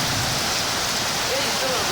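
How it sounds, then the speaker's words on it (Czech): Light rain falls steadily as a soft, even hiss of drops on surfaces, with a faint voice briefly present in the background. "A pak přišel lehký déšť."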